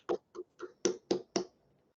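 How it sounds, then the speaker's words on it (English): Six separate hand claps from webinar participants for the speakers, close and fairly sharp, spaced about a quarter second apart, with silence after. "join me in giving everyone of the speakers a big round of applause"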